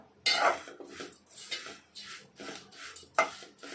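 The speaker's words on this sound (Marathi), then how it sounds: "आपण ह्याच्यामध्ये पोहे चांगले भाजून घेऊया" Poha (flattened rice) dry-roasts in a heavy pan, stirred in repeated scraping, rustling strokes with a few sharper knocks of the spoon against the metal, close by and without talk.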